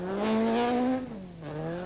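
A Class A7 Toyota Corolla rally car tears along a stage, its engine note high and strained before dropping in pitch as it passes, a brief, loud burst with no voices.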